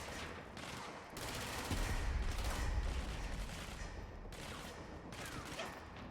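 Gunfire in the video game Control on PS5, sustained rapid bursts of shots with booming impacts that swell and fade across several seconds, loud and continuous with no talking.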